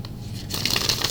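Stiff tarot cards being shuffled by hand, heard up close as a quiet rustle that breaks into a brighter, sustained riffling crackle about halfway through, with no voices.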